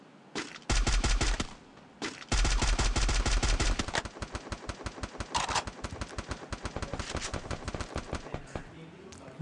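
In the Free Fire video game, loud automatic gunfire rattles in long sustained bursts, followed by rapid, sharper single shots and shorter volleys, close and dominant throughout.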